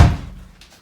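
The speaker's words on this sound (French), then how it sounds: "Allez, ferme cette porte là" A door is shut with a single heavy thud close by, dying away quickly into a quiet room.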